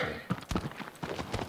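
Horse hooves clip-clopping in the video game Shadow of the Colossus, a quick rhythmic series of close, distinct hoofbeats at a trot with no voices over them.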